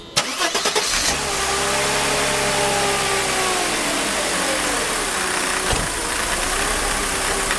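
A Mercedes M104 engine with a faulty throttle body wiring cranks and catches, then settles into a steady, close, slightly wavering idle with a brief click partway through.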